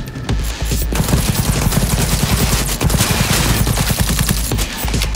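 Sustained automatic gunfire in the video game Cyberpunk 2077: Phantom Liberty, loud and close, with rapid shots in long continuous bursts broken only by brief pauses, set over a heavy low rumble.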